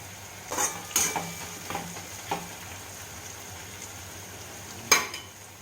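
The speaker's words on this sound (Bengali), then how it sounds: "পেঁয়াজগুলো এবারে আমি ভালোভাবে ভাজবো" Onions fry in a pan with a soft, constant sizzle while a utensil stirs and scrapes in several sharp, close clatters early on and one more near the end, with no voices.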